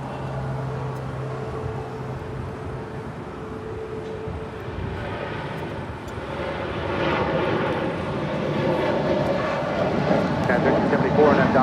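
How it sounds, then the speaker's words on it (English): An Alaska Airlines passenger jet departs runway 25 right at Los Angeles International Airport, its engine roar building steadily from a distant rumble to a louder, fuller rush toward the end under radio chatter. "This is Alaska Airlines Flight 6 departing to Washington National"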